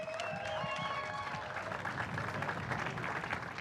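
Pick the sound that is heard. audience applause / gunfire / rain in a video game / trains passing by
audience applause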